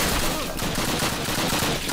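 Rapid gunfire in the video game Call of Duty, a dense loud burst of overlapping shots that fills the whole moment with barely a break.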